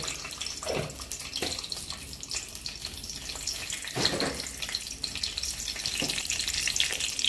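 Bay leaf, curry leaves and cumin fry in hot oil for a chickpea curry, giving a continuous crackling sizzle with a few louder splutters and stirring scrapes, fairly close.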